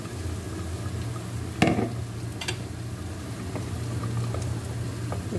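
A pot of Quaker oat soup simmering on the stove, giving a steady low bubbling hiss with a few sharper clinks and pops, close and fairly loud with no voices.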